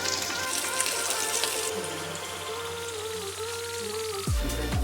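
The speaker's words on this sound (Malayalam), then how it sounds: "നമുക്കിനി ഈ സൈഡ് ഫ്രൈ ആയി കിട്ടുന്ന വരെ വെയിറ്റ് ചെയ്യാം." Sardines (mathi, chala) sizzle in oil in a frying pan, a steady close hiss with faint crackle, ending in a brief clatter.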